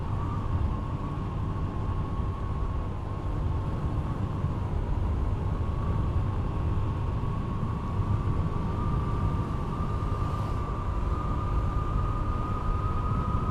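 Rain falls on a car driving on a dark road during a holiday homeward trip from Demak to Bogor, a steady, even hiss over a low engine and road rumble with a faint high whine throughout.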